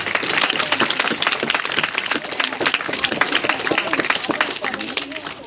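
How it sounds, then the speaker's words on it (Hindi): Loud, dense applause from an audience at a village education-mission gathering, welcoming everyone present, a continuous roar of many hands clapping close up that barely varies across the stretch. "यहाँ पे उपस्थित सभी लोगों का मैं एक बार जोरदार तालियों से स्वागत करना चाहता हूँ।"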